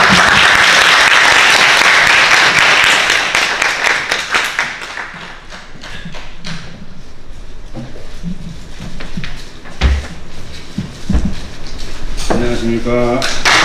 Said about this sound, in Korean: 큰 박수로 환영의 박수를